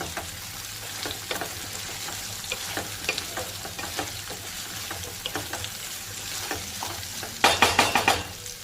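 Peas, potato and drumstick pieces frying with onion in a pan give a steady close sizzle, with scattered stirring scrapes and a brief burst of louder clatter near the end.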